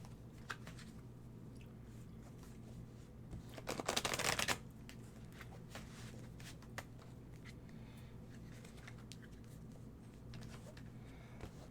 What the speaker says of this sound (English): go ahead and shuffle those